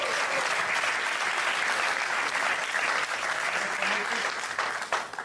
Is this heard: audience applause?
yes